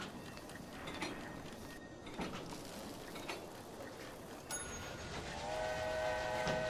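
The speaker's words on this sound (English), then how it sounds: "See, I can blow the whistle." A steam locomotive whistle sounds in the Railway Empire video game, a sustained tonal blast entering late over faint rolling train noise, fairly quiet overall.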